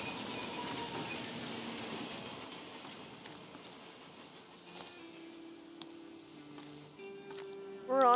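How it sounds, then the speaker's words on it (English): A train in The Thaumaturge rumbles with a steady broadband roar and faint rhythmic clatter, while tonal musical notes rise underneath toward the end. "We're on a train."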